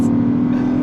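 A supercharged V8 in a 2023 Land Rover Defender 110 Carpathian Edition accelerates hard, a loud steady engine drone held close and constant, with no talking over it.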